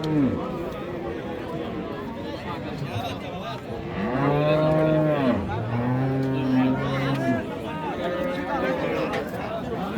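Friesian cows at the Raniganj cattle market in Dinajpur letting out long, loud moos close by, with a crowd murmuring and people talking throughout.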